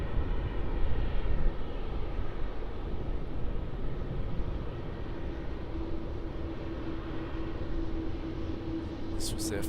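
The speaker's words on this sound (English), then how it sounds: "And there is that Jetstar 787 that back taxied." A Jetstar Boeing 787 airliner taxiing at Melbourne Airport after arriving from Singapore, heard as a steady, fairly distant engine rumble with a faint sustained whine, continuous and unbroken throughout.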